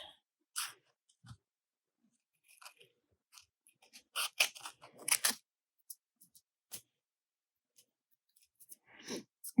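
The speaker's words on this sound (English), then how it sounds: "Cut off the rest." Scissors cut folded paper while a paper flower is made: a quiet, sparse run of crisp snips and small crunches, with a short cluster of quicker cuts in the middle.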